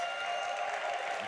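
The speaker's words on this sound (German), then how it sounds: "Einen Riesenapplaus an unsere neue Bingo-Verstärkung" A live audience at a conference stage applauds a new member of a bingo team, a steady wash of clapping from many hands that fills the whole moment without pause.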